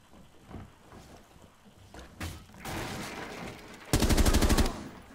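Gunfire in Rainbow Six Siege, a tactical shooter video game: muffled shots build up, then a loud rapid burst close by, followed by quiet.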